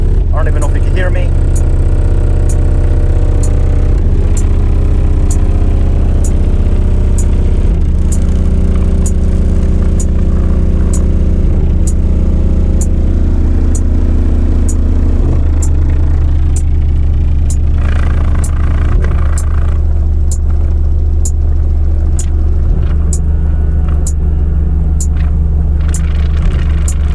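Deep car audio bass from a JBL Stadium 3-way component system and a Death Row 12-inch subwoofer, a loud sustained low rumble with shifting low tones under steady talk inside the vehicle.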